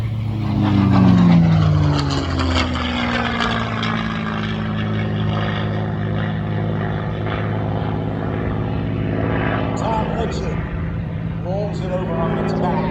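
A P-51 Mustang propeller aircraft flies at an airshow at Willow Run Airport, a loud droning engine passing overhead and fading to a sustained distant rumble, with a voice talking over it throughout.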